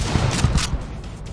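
Bursts of gunfire from the video game Project R.I.P., a rapid cluster of loud shots in the first half second that tapers into lower rumble, with no talk over it.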